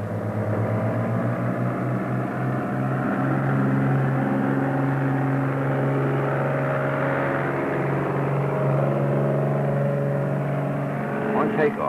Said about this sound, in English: On takeoff, we began our climb at a best rate of climb speed.